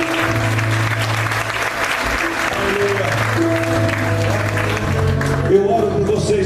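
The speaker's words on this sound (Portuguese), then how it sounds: "Se você crê, aplauda o nome dele." A church congregation applauds together in a steady, dense wash of clapping that fills the whole stretch, with voices rising underneath.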